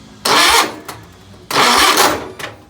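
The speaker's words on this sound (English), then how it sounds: "Go ahead and hit the starter, see what happens." A John Deere 317 tractor engine turns over on the starter in two short, loud cranking bursts, with a brief faint tail at the end.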